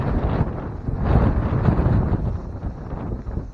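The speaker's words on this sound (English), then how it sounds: "it is really windy out here." Strong gusts at an old stone arch bridge buffet the microphone with low, rumbling blasts that swell and ease, with no voices present.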